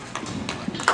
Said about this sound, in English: He's riding a horse in Alamo that definitely does have a surplus of speed